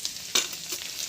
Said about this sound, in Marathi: आता याच्यात थोडं जिरं टाकते, अर्धा चमच लसूण,